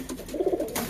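Pigeons coo in a short, soft, throaty burst of a few pulses, close by and without speech.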